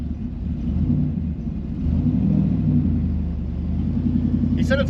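A third-generation Camaro's LT1 V8 idling with a hot cam, producing a deep, steady rumbling burble up close, with a short burst of other sound at the very end.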